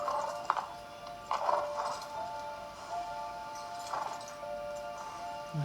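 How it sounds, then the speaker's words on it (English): Horses clip-clop in a drama scene, a few hoof strikes ringing out irregularly with a neigh among them, set over a low, steady background. "The Queen loves her horses."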